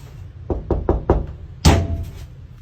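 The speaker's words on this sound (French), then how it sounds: "Everyone's been asking me to try and knock back." Knocks on a door or wall at night: four quick raps in a row, then a heavier louder thud after a short pause, close and dry in a quiet room.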